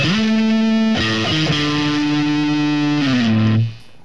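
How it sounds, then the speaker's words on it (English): An electric guitar strung with acoustic guitar strings, at a university demonstration, plays through heavy distortion: thick, buzzing sustained notes ring loud and alone, shifting pitch a few times before the tone is cut off near the end. "Do you think you can turn down the distortion a little bit?"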